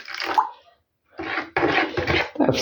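Water poured into a bowl of chicken breast marinade, a splashy stream in several bursts with a brief pause between, close and fairly loud.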